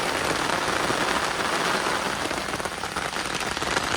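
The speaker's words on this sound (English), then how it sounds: "It's raining hard." Heavy rain drums steadily and loudly on a tent during a camping storm, a dense continuous hiss with no breaks and no talk over it.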